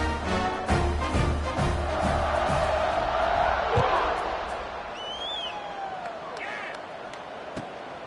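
A large crowd roars and cheers in a college football stadium as Boston College and Stanford line up for kickoff, a dense, steady, far-off wall of noise with a commentator talking over it.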